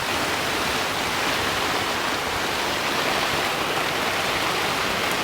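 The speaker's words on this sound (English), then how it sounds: "strong heavy rain and some breeze." Heavy rain pours steadily over a sailboat at sea with some breeze, a dense, loud, unbroken hiss with no pauses and no voices.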